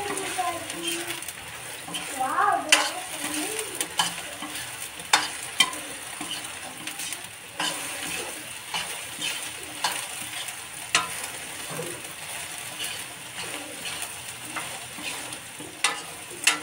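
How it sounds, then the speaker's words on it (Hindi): Soybeans sizzle in hot oil with already-fried onion and garlic, a steady bright crackle with occasional stirring clinks from a spoon against the pan, close and continuous, with a few faint voice sounds in the background. "अब डालेंगे इसमें सोयाबीन, क्योंकि इसको भी कुछ देर तलेंगे तो अच्छा बन जाएगा"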